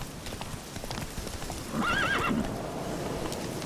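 The horse Roach in The Witcher 3: Wild Hunt clip-clops along in a steady hoof rhythm, then lets out a clear neigh midway over a background of game ambience.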